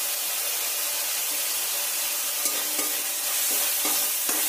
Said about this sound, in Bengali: দিয়ে ভালোভাবে মশলাগুলোকে কষিয়ে নিতে হবে।